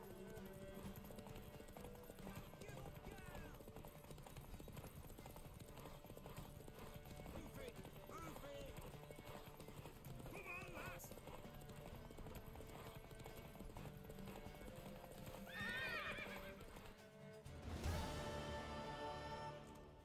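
A horse galloping in The Witcher 3 video game, a fast steady clip-clop of hooves throughout with a neigh near the end, mixed with voices talking.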